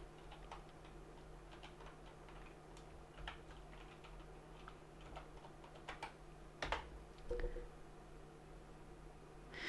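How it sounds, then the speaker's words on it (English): Keys clatter softly on a computer keyboard in an irregular stream of light taps, close by, with a couple of louder clicks later on. "So I'm kind of typing one-handed here."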